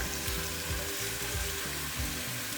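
Chicken pieces cut into small quarters sizzling steadily in a hot pan for Filipino chicken tinola, close and constant, alone without talk.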